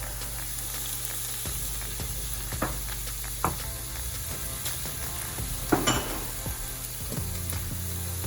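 Beef sizzles steadily in a hot pan as brown sugar and soy sauce are poured in, a loud continuous fry with a few sharper crackles and utensil knocks, no talking.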